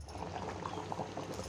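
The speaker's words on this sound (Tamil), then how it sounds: "புளி தண்ணி ஊற்றிக்கலாம்." Crab gravy made with field crabs simmers and bubbles steadily in a pot as tamarind water is poured in, a soft continuous boiling texture with no talk.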